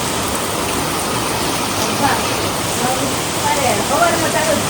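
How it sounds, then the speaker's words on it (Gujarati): A dense, unbroken roar of heavy rain comes down at night in a lightning storm, loud and close, with a voice talking faintly underneath. "વીજળી સાથે એટલો જબરજસ્ત વરસાદ પડી રહ્યો છે."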